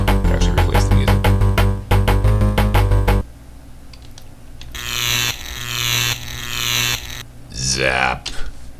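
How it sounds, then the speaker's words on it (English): Apple IIgs Space Quest 2 sound effect for a robot catching the player: a harsh buzzing, ratcheting electronic tone, then a series of rhythmic synthetic zaps and a rising sweep, loud and close. "the sound effect that that it plays when the robot catches you"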